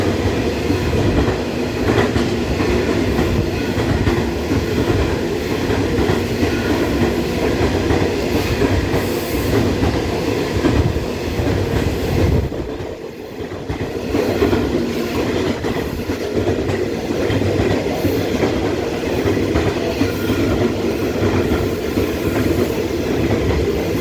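A freight train hauling CEY wagons rolls past in Cardiff, a loud, continuous rumble with rhythmic wheel clatter over rail joints and a brief dip midway before the wagons keep grinding steadily by.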